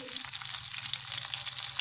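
Pointed gourd pieces sizzling and frying in a pan with turmeric and salt as they are stirred, a steady close crackle with soft scraping running throughout, no voices.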